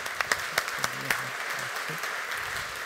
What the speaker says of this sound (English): please a round of applause for Frédéric.